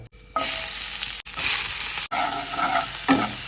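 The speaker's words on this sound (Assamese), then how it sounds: "প্ৰথম এই পিঁয়াজখিনি আমি ভাজি লওঁ ইয়াত।" Sliced onions sizzle in hot refined oil in a home kitchen as pork biryani gets started, a loud steady frying hiss broken by a couple of brief pauses and a few stirring scrapes.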